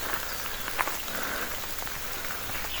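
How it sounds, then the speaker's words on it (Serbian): Rain falls steadily during an outdoor walk on a wet day in Norway, a soft continuous patter of drops with a few slightly louder taps, no talking heard. "Vidite kako kiša pada"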